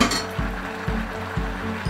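A lid goes onto a cooking pot of chopsuey, giving a series of four evenly spaced metallic clinks over a soft background sizzle, close and fairly loud with no talking.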